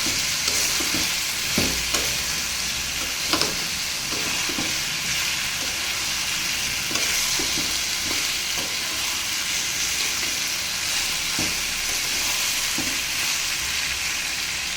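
Salted pumpkin pieces frying in a pan in their own released water, a steady close sizzle with occasional scraping stirs and clatters running throughout.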